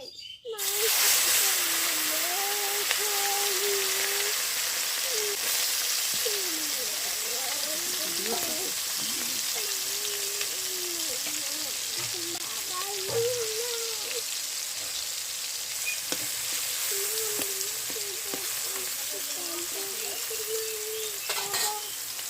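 Small fish coated in turmeric and salt fry in hot oil for a village-style fish curry, a continuous loud sizzle and crackle throughout while a voice talks intermittently underneath.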